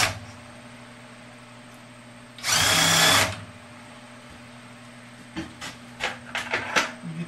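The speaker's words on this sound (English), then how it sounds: "we're going to drill them with a center drill first" A center drill makes a short burst of high-pitched drilling into metal, lasting under a second, followed by quiet hum and a few scattered clicks and taps.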